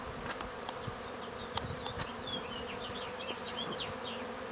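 Russian honey bees buzz steadily outdoors while their hive colonies are relocated across the same property, a continuous insect drone with faint, scattered bird-like chirps and small knocks, no talk.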